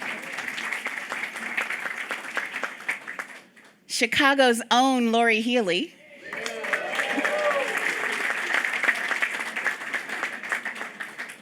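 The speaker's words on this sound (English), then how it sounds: "you can clap for her" An audience applauds new board members at a public conversation event, a dense, sustained clapping that fades briefly while someone speaks over a microphone, then swells back up and carries on.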